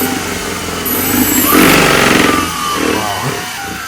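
The rear wheel of an Apex Hyperscooter spins under electric motor power, a close, buzzing whine that rises and fades over a few seconds.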